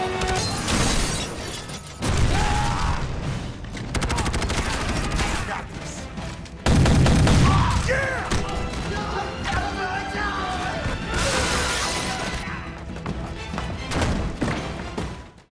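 A film helicopter crashes and explodes amid gunfire, with loud bursts, shattering crashes and heavy booms under continuous dramatic music and occasional voices.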